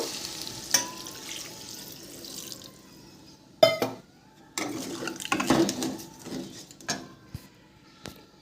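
Water is poured into a pan of simmering mankochu bori curry and sizzles, with a sharp clatter partway through and scattered stirring and pan knocks, close by with no speech.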